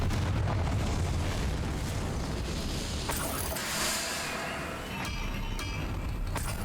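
A Confringo fire spell explodes in Hogwarts Legacy, a wizarding video game, giving a loud, rumbling blast that swells midway and then fades, followed by a few sharp crackles over a steady background of game noise.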